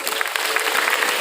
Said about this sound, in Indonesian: tepuk tangan sekali untuk beliau semua